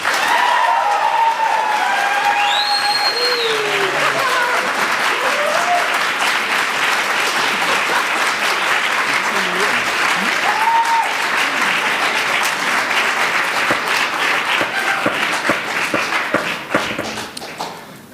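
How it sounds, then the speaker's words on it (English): A debate audience breaks into loud, sustained applause lasting many seconds, dense clapping with a few voices and whistles mixed in at first, tapering off toward the end. "Please applaud now if you agree with them."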